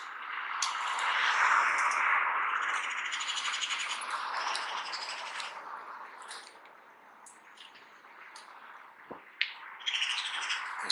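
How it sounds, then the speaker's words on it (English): Birds in a big tree on a town street, nesting and fighting, a busy chorus of squawks and chirps that swells early, fades midway and returns with sharper calls. "The big tree here, the birds up the top there, nesting and fighting and"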